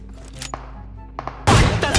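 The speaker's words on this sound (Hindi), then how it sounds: "गोलियां चल रही हैं" A sharp, loud burst of gunfire erupts near the end after some quieter clicks and thuds, with a few shots continuing.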